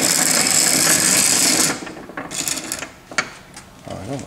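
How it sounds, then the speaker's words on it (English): Piston ring filer grinding down a piston ring during a 5.7 HEMI piston replacement, a loud steady grinding whir up close that stops partway, followed by scattered clicks and light metallic handling. "we're going to take it over to our ring filer right here. Grind it down a little bit."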